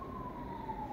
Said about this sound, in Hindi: आई थिंक कोई एम्बुलेंस जा रही है.